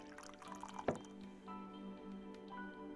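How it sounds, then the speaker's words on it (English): Tea trickles from a kettle into a cup in Hakuoki with soft, faint drips and splashes, one louder plop early on, and a thin liquid pour settling over a quiet tonal hum. "I was gently pouring tea from the kettle into Yamazaki's cup"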